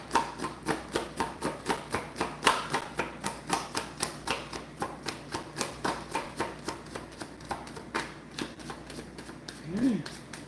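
Tarot cards being shuffled by hand, a steady run of crisp, evenly spaced snapping clicks close by, with a voice murmuring faintly in the background.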